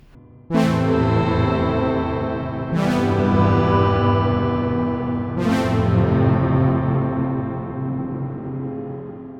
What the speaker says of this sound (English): we can transform this into a shimmer reverb